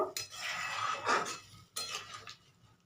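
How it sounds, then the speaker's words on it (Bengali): A metal spoon scrapes and clinks against a pan in a few bursts of stirring a simmering eggplant and potato curry, close and fairly clear, with brief pauses between strokes. "ভালো করে একটু নাড়াচাড়া করে দেবো"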